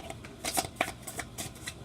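A deck of oracle cards being shuffled close by, a rapid run of crisp riffling flicks and slaps in an uneven rhythm, with no talking.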